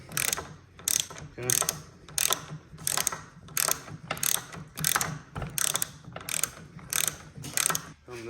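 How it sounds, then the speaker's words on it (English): Ratchet with a 3/4 socket tightens the track drive pulley on a Troy-Bilt Storm Tracker 2890 snow blower, a long run of regular loud clicking strokes about every 0.7 seconds, close up, with a brief spoken word. "You're gonna come to your pulley, 3/4 socket, and you're gonna tighten the pulley back up"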